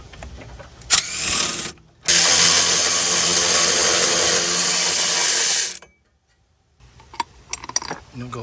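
Power tool or socket ratchet working a bolt on the rear suspension knuckle of a 2016-2023 Chevy Malibu: a short burst, then a sustained loud mechanical whir for about four seconds, followed by silence and scattered clinks of metal tools.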